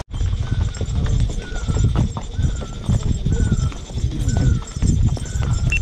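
Horse hooves clip-clop at a steady walking pace, fairly close, over a busy outdoor background with some chatter in Nainital, Uttarakhand.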